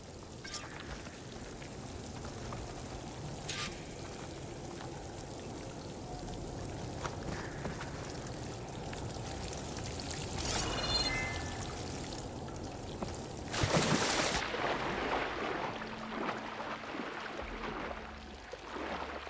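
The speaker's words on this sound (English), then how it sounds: "Seems like a hot spring." Warm hot spring water in the video game Horizon Forbidden West flows and splashes in a steady, rain-like wash, with a louder gush surging near the end over a continuous ambient hiss.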